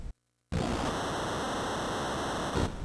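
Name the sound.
crowd noise like white noise from NES wrestling video game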